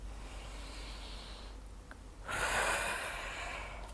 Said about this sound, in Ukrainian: робимо вдих